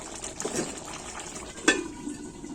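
A spoon scrapes and stirs green chilli chicken in a pan, soft low scraping with faint sizzling and one sharp metallic clink partway through, quiet and close.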